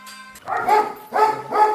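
A young puppy gives three short, close barks one after another while being picked up by hand. Breed could be beagle, husky or pug.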